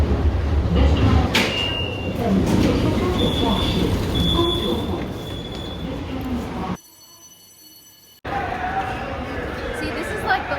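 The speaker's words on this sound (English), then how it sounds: "To Beijing subway." Steady rumble of a Beijing subway train running, with a brief metallic squeal and a sudden near-silent gap before the rolling noise resumes.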